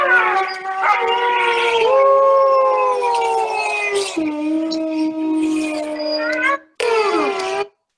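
A wolf-dog hybrid howls in long, sliding, wavering tones, several overlapping howls rising and falling, loud and close, with a brief break before a final drawn-out howl.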